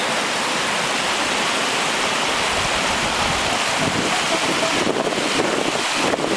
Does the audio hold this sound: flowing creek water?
yes